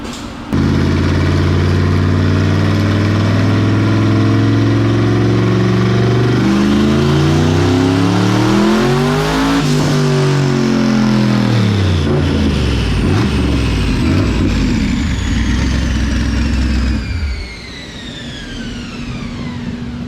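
A tuned sports car engine revving hard on a dyno, pitch climbing through the gears to a loud peak, then dropping back toward idle, close and roaring.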